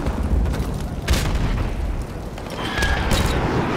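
Airstrike blasts in a Call of Duty match land as a couple of sharp booms over a rumbling backdrop of distant gunfire and battle noise, with no talk.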